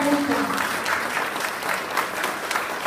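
An audience applauds Kilder Fuentes at a gathering for Ecuadorians, a continuous broad clatter of many hands, loud and steady for the whole stretch, with a brief voice at the start.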